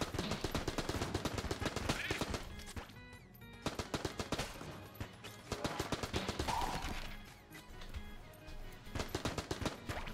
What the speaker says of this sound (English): Using up our Tommy gun ammunition very quickly